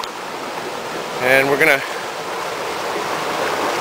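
Water pours out through both channels of a herring run dam at Hinckley's Dam, Witchmere Harbor, a steady broadband rush that runs under the whole clip, with a short stretch of nearby talk partway through.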